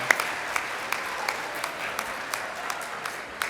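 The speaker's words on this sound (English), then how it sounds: "Let's give them a round of applause" Guests at a Girls Inc 25th anniversary gala applaud the committee members with moderate, steady clapping, a few sharper individual claps standing out over the soft wash of the room.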